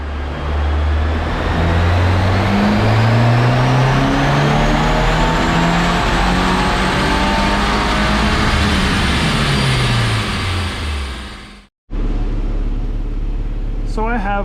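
A 2023 VB Subaru WRX engine is revved hard on a dyno during an intake test. The pull climbs steadily, loud and close, and cuts off abruptly near the end. A voice talks briefly afterward.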